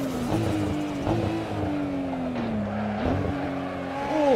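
A sports car engine in Assetto Corsa, a Nissan GT-R or Toyota Supra, whines steadily, its pitch sliding down through gear changes before climbing again near the end, loud and close.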